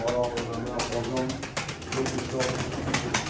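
Pet pigeons kept inside a house coo and rustle continuously, close and fairly loud, with someone talking over them throughout.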